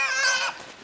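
Tiny chicks chirp in the video game Inside, a brief bright twittering peep that is close and clear, then fades quickly.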